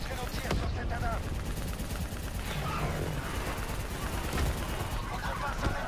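Gunfire in the video game Black Ops 3 crackles as dense, continuous bursts throughout, steady and fairly loud, with voices talking over parts of it.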